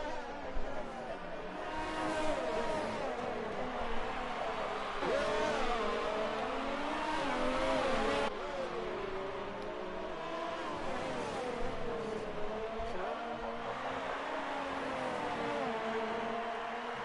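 Formula 1 cars in a racing video game, a Toro Rosso chasing a Haas at the German Grand Prix, hold a steady, loud engine whine that rises and falls through gear changes, with a commentator talking over it.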